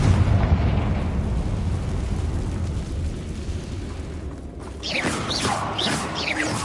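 Explosive Confringo and Bombarda spell blasts burst in the video game Hogwarts Legacy, a thick rumbling din of booms giving way to a sharper flurry of crackling impacts near the end.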